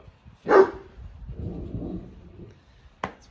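A dog gives one loud bark up close, then a rough lower growl-like sound follows, and a second sharp bark comes near the end. A single spoken word overlaps the start, in a snowy trout-fishing setting.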